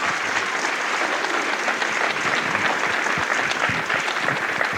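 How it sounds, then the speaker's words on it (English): Steady, dense applause from an audience at a college athletics hall of fame induction ceremony, welcoming the master of ceremonies; loud, continuous clapping filling the room with no talk over it. "Please give him a round of applause."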